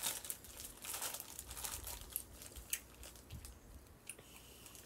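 Someone crunching and chewing a Guyanese snack chip from a plastic bag, with close, irregular crinkly bites and rustling scattered through the whole stretch and no talking.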